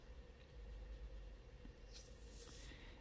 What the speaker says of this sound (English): This would make a great ASMR video if you guys can hear this pencil.